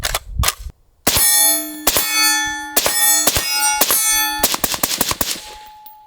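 A suppressed rifle fires a string of sharp shots at an irregular pace, each report followed by a bright metallic ring, with a short gap between the first shots and the rest.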